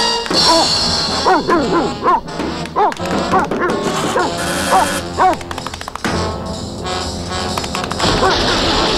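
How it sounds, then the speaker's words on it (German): A cartoon wonder chair barks and yips like a dog amid busy orchestral cartoon music, with crashes and thwacks; the barks come in quick bursts through the first half, loud and up close. "Es ist der Wunderstuhl, der sich gebärdet wie ein Hund"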